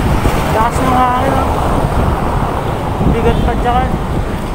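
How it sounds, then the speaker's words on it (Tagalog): Strong wind buffets the microphone with a loud, steady roar, while a voice speaks briefly underneath. "Lakas ng hangin."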